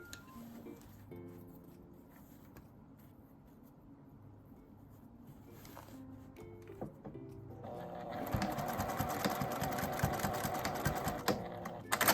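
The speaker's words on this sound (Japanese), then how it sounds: "半分に折ってファスナーの上に仮縫いします。" A sewing machine basting folded fabric over a zipper while making a square box pouch. After a quieter start it runs loud and steady, a fast continuous mechanical whirr and needle chatter through the final seconds.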